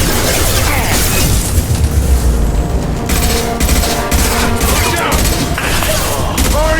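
Continuous heavy gunfire in the video game Mass Effect 2 as Blue Suns mercenaries and Vorcha shoot, with rapid bursts and booming impacts piling up loud and close over a dense battle din.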